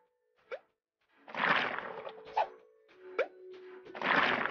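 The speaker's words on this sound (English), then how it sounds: "Dough goes in the mold." Cartoonish plops and soft thuds from a kids' cooking video game as dough drops into a mold, several short bouncy hits alone against silence, with a steady tone running underneath.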